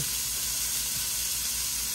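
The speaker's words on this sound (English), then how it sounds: "Y'all hear those sausages sizzling?" Constant close sizzling of sausages frying in a hot pan, a steady hissing crackle with no speech over it.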